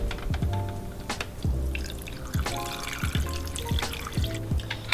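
Water pours and splashes over pork bones in an Instant Pot pressure cooker, a steady close-up trickle with irregular drips and splashes, no talking.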